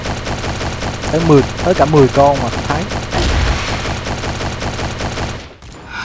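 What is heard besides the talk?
Lewis Gun machine gun firing in CrossFire mobile video game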